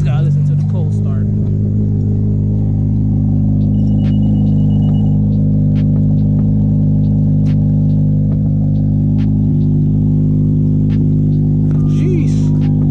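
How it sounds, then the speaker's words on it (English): A Honda Civic Si with a K24 engine idles loudly and steadily after a cold start, a deep constant rumble held near and even throughout with no rise in revs. "Always gotta listen to the cold start."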